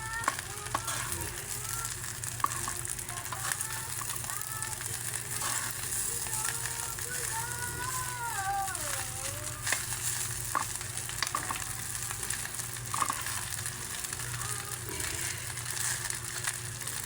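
Leftover cooked rice frying in a pan, a steady crackling sizzle with scraping and stirring throughout, close and fairly loud.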